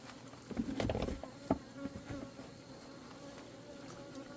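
A hornet buzzes close by, loud for a moment then drifting lower, over a faint outdoor background near beehives.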